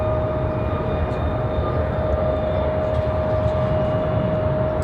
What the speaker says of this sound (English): Going to be a turn and burn out of that A220-300.